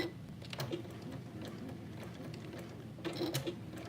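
A home sewing machine stitches a cozy easy top, a soft rapid ticking patter running steadily throughout at moderate, close level, with slightly busier bursts near the start and end.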